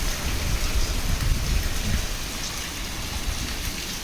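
Heavy rain pours during Cyclone Dana in Odisha, a dense, continuous roar of drops hammering surfaces with gusty low rumbling underneath, steady and loud throughout with no speech.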